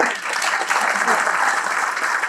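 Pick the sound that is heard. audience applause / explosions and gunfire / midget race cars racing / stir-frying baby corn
audience applause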